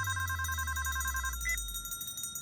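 A mobile phone rings with a steady electronic ringtone, a sustained warbling tone that shifts pitch partway, fairly clear over a low hum.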